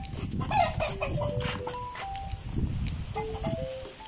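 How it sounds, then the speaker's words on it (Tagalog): Chickens cluck in a small farm chicken coop, a few soft clucks and short rising calls scattered over a low rumbling background, fairly faint with no voices. "Dito na naman tayo sa ating munting manukan."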